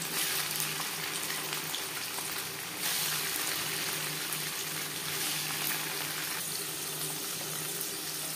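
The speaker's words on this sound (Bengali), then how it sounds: "পরিমাণ মতো রিফাইন্ড অয়েল বেশ ভালো করে গরম করে নিয়েছি। এবার দিয়ে দেব পনির।" Cut paneer pieces frying in well-heated refined oil for a vegetarian potato-paneer curry, a steady close hiss and crackle with brief bursts of louder sizzling, no voices.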